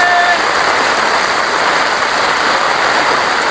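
Loud, dense rain pours steadily without pause, a close and constant rushing hiss of water hitting surfaces.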